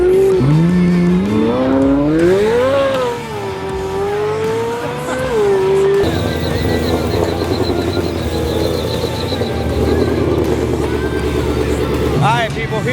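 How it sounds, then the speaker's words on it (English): A record-holding 2020 Shelby GT500 out for a standing-mile pass, its engine loud and close as it revs and rises in pitch, then a steady heavy roar with broadband rumble, with voices talking over it. "here we go with the fastest record-holding 2020 Shelby GT500, getting ready to do another pass"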